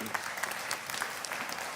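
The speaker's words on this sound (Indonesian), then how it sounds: "Oke, tepuk tangan buat Pak Samirin." Steady audience applause for Pak Samirin at a Gus Iqdam religious gathering, dense clapping from a crowd throughout, fairly close and even.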